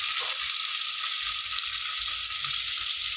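Sliced onions dropped into hot oil in a home kitchen pan, hissing loudly and steadily in a bright, continuous sizzle with faint low bumps underneath.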